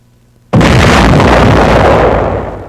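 A single artillery gun fires a shell in a sudden, very loud boom that erupts from near silence and then rumbles on with a broad, slowly fading roar.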